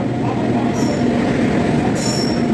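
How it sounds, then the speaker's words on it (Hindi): Dibrugarh Howrah Kamrup Express at New Jalpaiguri station, a steady loud rumble of rolling railcars with brief high wheel squeals flaring twice, continuous throughout with no talking. "ये है मेरी ट्रेन जिस ट्रेन में हम जाएंगे। इस ट्रेन का नाम है डिब्रूगढ़ हावड़ा कामरूप एक्सप्रेस।"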